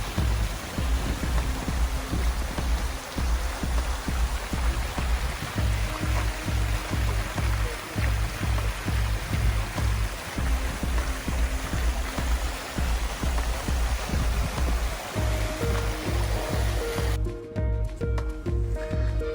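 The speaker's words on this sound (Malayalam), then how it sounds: "ഇവിടെ ഇവരൊക്കെ സെറ്റ് ചെയ്തിരിക്കുന്നത് കൃത്രിമമായിട്ടുള്ള വെള്ളച്ചാട്ടങ്ങളൊക്കെ." Artificial waterfalls at the Expo 2020 lake send up a steady, loud rush of splashing water for most of the stretch, with faint music-like tones underneath and a quieter tail at the end.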